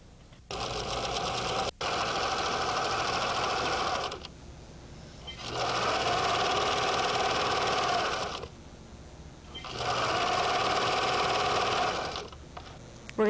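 A sewing machine joins quilt blocks in three long runs of steady mechanical whirring, separated by short quiet pauses, in a 1983 quilt shop in Pittsburgh.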